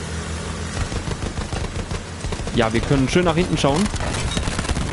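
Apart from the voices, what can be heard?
gunshots in video game Battlefield 1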